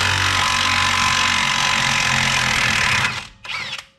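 A Ryobi cordless half-inch impact wrench on its highest setting hammers at a rusted leaf spring nut on a Ford F-250, a loud continuous rattling burst for about three seconds that cuts off abruptly, followed by a brief fainter whir.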